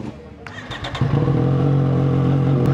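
A Triumph Street Triple motorcycle engine starts with a few clattering cranks, then settles into a loud, steady idle close by, with an outdoor ambience behind it.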